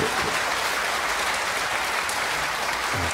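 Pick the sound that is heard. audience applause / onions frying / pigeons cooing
audience applause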